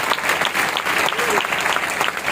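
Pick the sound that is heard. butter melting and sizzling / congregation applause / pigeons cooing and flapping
congregation applause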